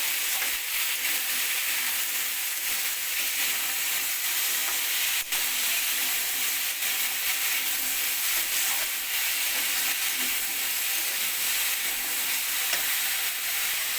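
Small pieces of potato sizzle continuously in hot oil in a pan. The hiss stays close and even for a long stretch, with an occasional sharp tap or stir.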